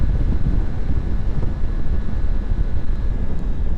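Rushing wind buffets a rider on a moving Triumph Tiger 900 GT Pro motorcycle, a loud, steady broadband roar mixed with engine and road drone, continuous and close to the microphone with no talk.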